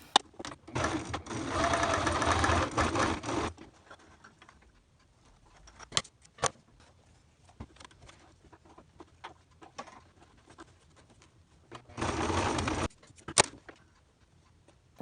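A sewing machine stitches straps onto pointe shoes in two loud, steady bursts of whirring, one early and one near the end, with scattered handling clicks and quiet pauses between.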